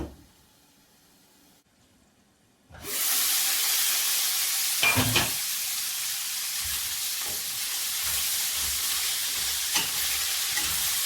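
Steady loud sizzling fills a pan of chickpea curry with spices after a quiet start, with a few clattering knocks of stirring scattered through the hiss, close up and without talk.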